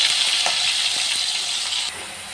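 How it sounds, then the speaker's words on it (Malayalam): Chopped onion sautéing with a pinch of salt in a pan for a prawn roast gives a steady, loud sizzle and hiss close by, with a few faint stirring clinks and no talking. "ഒരു ലേശം ഉപ്പിട്ട് കൊടുത്താൽ നമുക്കിത് സവാള പെട്ടെന്ന് വഴന്ന് കിട്ടും"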